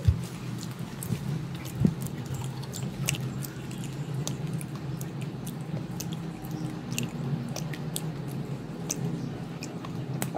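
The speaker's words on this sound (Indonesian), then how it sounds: "Gurih, renyah, dan kriuk-kriuknya tadi Bunda sedap banget." Crunchy kemplang fish crackers from Lamongan being chewed close to the mic, with steady crisp crackling bites repeating throughout and one sharper crunch early, no speech.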